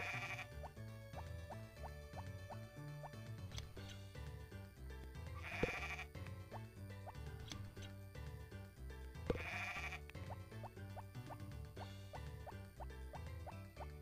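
Sheep bleat in the farming game Harvest Moon: Back to Nature over continuous looping background music, with a couple of brief louder accents standing out from the steady game soundtrack.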